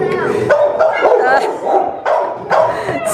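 A dog barks and yips in several short bursts close by, mixed with excited vocal sounds and voices, at a Brazilian dog kennel beside a very large pet transport crate.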